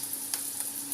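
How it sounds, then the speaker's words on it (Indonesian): Small rice anchovies (ikan teri), about 150 grams, frying in oil over low heat, giving a steady soft sizzle with faint crackles and a brief stir throughout. "diteruskan dengan menggoreng ikan teri nasi 150 gram dengan api kecil"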